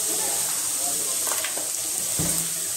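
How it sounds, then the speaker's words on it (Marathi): Chopped onion sautés in a pan with turmeric and salt, a steady soft sizzle close by with occasional light stirring scrapes and a thud, with a voice faintly present underneath. "आपला कांदा छान असा परतून झालेला आहे"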